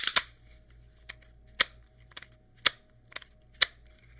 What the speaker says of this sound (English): I'll take the mag out for everybody.